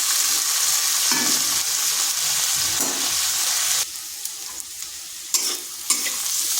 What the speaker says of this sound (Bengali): এরপর আলু আর কুঁদরিটাকে একটু ভাজা ভাজা করে নিই।